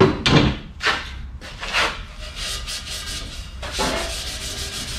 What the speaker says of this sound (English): rub some paint off there so I can mark it